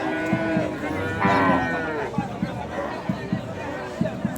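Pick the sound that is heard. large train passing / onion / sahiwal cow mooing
sahiwal cow mooing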